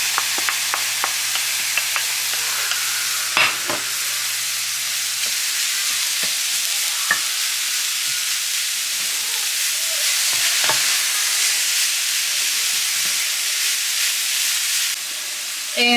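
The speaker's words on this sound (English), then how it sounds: "I'm going to add my sausage back into my pan" Sausage sizzles steadily in a pan on a home stove, a continuous bright frying hiss with occasional scrapes and clicks of stirring, close and alone without talk.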